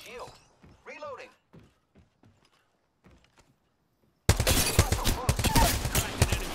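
Heavy gunfire in the Apex Legends video game breaks out suddenly as a loud, dense, sustained burst of rapid shots, following a stretch of voice and quieter game sounds.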